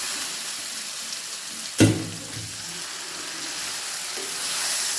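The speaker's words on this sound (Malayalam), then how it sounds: "ഇനി നമുക്കതിലേക്ക് കപ്പ ഇട്ട് കൊടുക്കാം." Boiled tapioca drops into a sizzling mustard seed tempering in a pan, a sharp loud splash and crackle that fades into a soft continuous sizzle.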